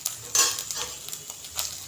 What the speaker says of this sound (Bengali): যতক্ষণ না নরম হচ্ছে ততক্ষণ পেঁয়াজটা ভেজে নেব